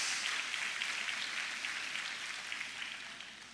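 A church congregation applauds steadily at a worship service, a dense, even wash of many hands clapping that holds throughout and eases slightly toward the end, with no talking over it.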